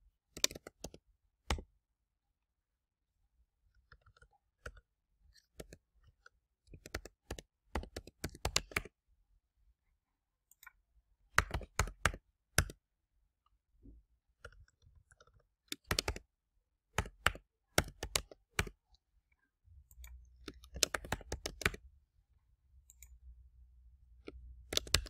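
Bursts of typing on a computer keyboard while filling in calendar cells, close and clear clicks in irregular runs separated by pauses, with a faint low hum near the end.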